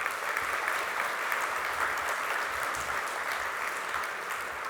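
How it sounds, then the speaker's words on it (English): A keynote audience at an assistive technology conference applauds steadily and cheers in a large hall, the loud, dense clapping holding evenly throughout with no talk over it. "Let's give her another cheer."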